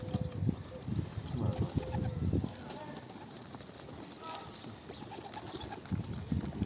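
Pet pigeons in a loft coo softly, and there are faint rustles and wing sounds while someone talks over them close by.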